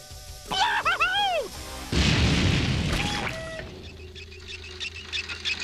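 A cartoon explosion from Adventures of Sonic the Hedgehog follows descending whistling tones with a loud, rumbling boom that slowly fades into a hiss, and a voice briefly speaks over it.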